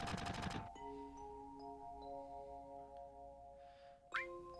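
A Final Fantasy VII battle opens with a quick burst of rapid gunfire from Shinra soldiers, followed by sustained synthetic game tones and soft chiming effects, with a sharp rising electronic sound near the end and no talk.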